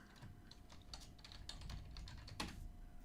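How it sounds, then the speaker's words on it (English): Computer keyboard typing, a quick irregular patter of soft key clicks over about three seconds, faint and close, with no voices. "Okay, I'm typing that in"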